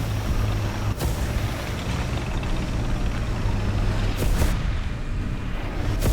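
An M1 Abrams tank engine rumbles in War Thunder, a steady low drone under broadband battle noise with a couple of sharp, loud booms standing out.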